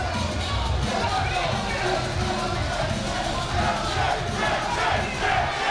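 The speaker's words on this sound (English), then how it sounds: "Crowd really getting behind Williams here" A crowd at a K1 kickboxing fight cheers and roars steadily, a dense wall of voices filling the venue without pause.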